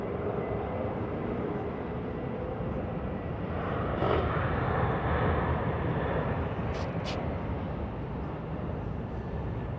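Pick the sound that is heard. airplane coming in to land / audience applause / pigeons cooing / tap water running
airplane coming in to land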